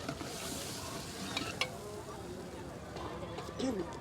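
Homemade masala and garam masala sizzling and frying in a pan over lowered gas heat while crab curry is cooked, a steady soft crackle with occasional stirring clinks, under nearby talk.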